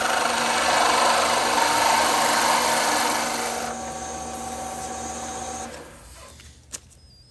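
A chisel cuts a spinning wood workpiece on a Shopsmith lathe, giving a steady, bright scraping hiss over a motor hum that weakens and then falls away, ending with one short tap.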